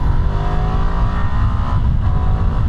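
A Ducati Multistrada V2 motorcycle's twin-cylinder engine pulls hard under load, a loud, continuous, rising engine note close to the rider with wind rush over it.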